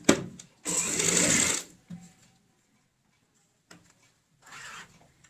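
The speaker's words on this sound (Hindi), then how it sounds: "सबसे पहले किनारे की सिलाई लगा लेंगे" A sewing machine runs a seam along the edge of a cushion cover with a zip in contrasting colour thread, in two close bursts, a long steady whir and a shorter one after a quiet pause.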